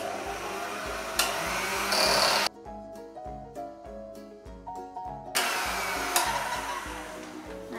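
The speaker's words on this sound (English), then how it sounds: "we're going to give it a quick whisk with an electric whisk just to make sure they're all combined and nice and fluffy" An old electric whisk beating fairy cake batter, a loud motorized whir that rises and dips as it churns, breaking off briefly in the middle before running again, close by with no talk.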